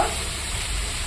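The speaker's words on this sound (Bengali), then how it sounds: "দিয়ে দিলাম সবজিগুলো, এবার ভালো করে নাড়াচাড়া করে নেব" Vegetables sizzle and fry in a hot pan as they are stirred, a steady broadband crackle that fills the moment with no voices.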